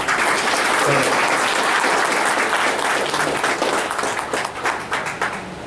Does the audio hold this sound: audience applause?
yes